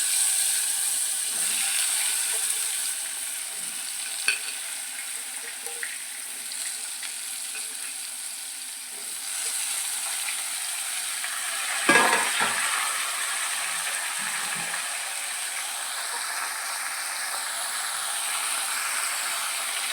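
Dambha vegetable hits a sizzling mustard-seed tempering and is stirred, producing a steady soft frying hiss with scattered spoon clicks and a louder scraping burst midway, close up.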